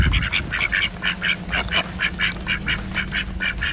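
A flock of ducks quacks in a steady, repeated series of close calls over low background noise, in a village setting in the Talamali and Damanjodi valleys of Odisha.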